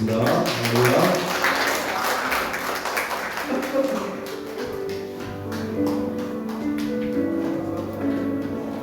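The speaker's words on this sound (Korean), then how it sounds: "우리들의 예배를 받으신 하나님께 영광의 박수 올려드리겠습니다." A church congregation at a Sunday worship service breaks into a burst of applause, loud broadband clapping for about four seconds that fades into sustained keyboard or organ music.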